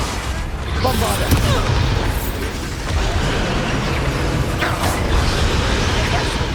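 A Bombarda explosion spell in Hogwarts Legacy, a loud booming blast within a dense, noisy combat mix of rumbling impacts and effects.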